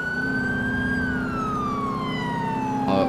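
An ambulance siren in GTA IV wails continuously, its tone sliding slowly downward as the vehicle passes, loud and close over a low engine rumble.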